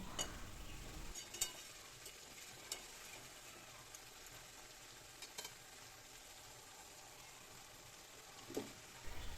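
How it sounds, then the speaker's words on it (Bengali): Jackfruit and potato chunks being stirred and sautéed in spice masala in a pan, a steady loud sizzle and frying hiss with occasional scrapes of the spatula, continuous and close with no talking. "ভালো করে এভাবে নেড়ে চেড়ে মশলার সঙ্গে এঁচোড়টাকেও কিছুক্ষণ কষিয়ে নিচ্ছি।"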